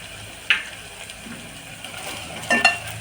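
Spinach mixture stir-fried with turmeric, onion-garlic masala and salt in a pan, a faint continuous sizzle broken by a couple of sharp spoon scrapes and clinks.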